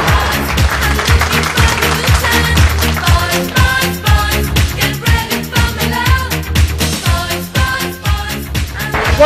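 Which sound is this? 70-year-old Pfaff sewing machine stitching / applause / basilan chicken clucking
applause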